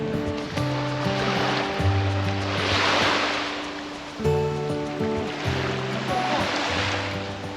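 Sea waves wash onto the shore beside a small Italian seaside village, two broad surges rising and falling over several seconds with steady surf hiss between them.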